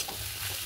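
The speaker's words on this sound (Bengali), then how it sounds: "এবারে ঢাকনাটা খুলে দেখো কীরকম ভাজা ভাজা হয়ে গেছে" Food sizzling in a pan while being stirred, a short steady fry with no voices.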